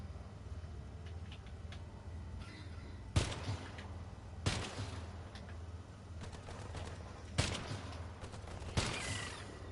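A DMR rifle fires in the video game Earthfall: four sharp, separate shots spaced a second or more apart over a quiet, low background.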